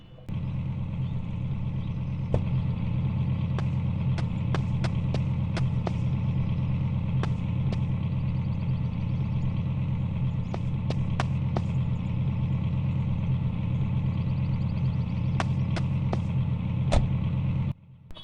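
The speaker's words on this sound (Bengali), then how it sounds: "তোমাদেরকে আমার গাড়ির শব্দটা কিন্তু শোনাচ্ছি, দেখো।" A BMW with an expensive aftermarket exhaust idles steadily with a deep, loud, continuous rumble, broken by sharp brief clicks and ticks over roughly eighteen seconds.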